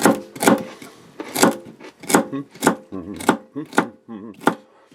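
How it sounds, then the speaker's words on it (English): A knife chops celery repeatedly on a board, about ten sharp, evenly spaced thuds close by, with faint music underneath. "Chopping up celery, hearts in the tactical kitchen."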